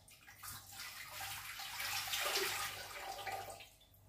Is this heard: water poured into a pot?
yes